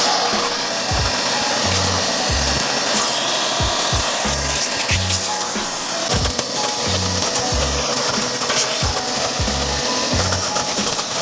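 A vacuum cleaner works through a car's trunk during an interior detail, a steady loud broadband whine with repeated bumps and scraping as the nozzle knocks against trim and carpet, running continuously with no talking.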